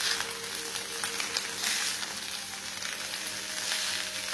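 Spicy beef fried rice with green bird's-eye chili and egg being stirred in a hot pan, giving a steady close sizzle and crackle with light scraping throughout, no voices.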